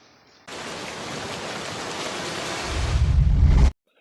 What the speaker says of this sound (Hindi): यूंगी जो बाहर बारिश में भीग रहा था।